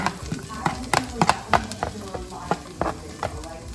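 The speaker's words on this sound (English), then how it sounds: "just saute them in that oil" Chopped onions sauté in hot oil in a pan, with a low sizzle under a series of sharp scrapes and knocks from a utensil stirring them, close and irregular.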